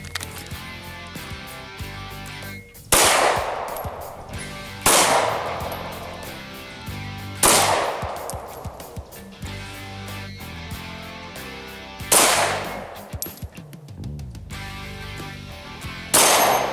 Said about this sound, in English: we're going to shoot frangibles first